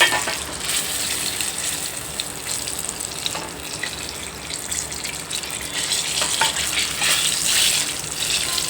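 Mirchi bajji, battered chillies, frying crisp in hot oil street-cart style, a dense, close, continuous bubbling sizzle with crackles that swells toward the end.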